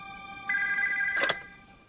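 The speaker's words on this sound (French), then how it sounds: "Nous nous mettions au lit quand le téléphone a sonné." Telephone ringing at night as a couple is going to bed, one clear electronic ring tone holding steady for about a second, fairly close, with no talk over it.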